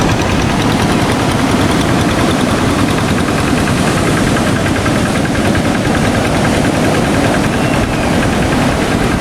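A tractor engine runs loud and close at a beach river mouth, a continuous rough, knocking drone with steady low rumble and no pauses.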